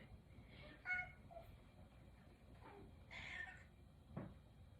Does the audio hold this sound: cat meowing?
yes